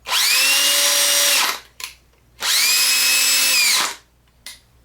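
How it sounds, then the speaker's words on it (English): An 18650 lithium-ion cordless drill with its battery pack newly repaired whines loudly in two sustained bursts of about one and a half seconds each. Its motor pitch rises at start-up, and a brief blip of the trigger follows each burst, close up with no voices. "The drill's working."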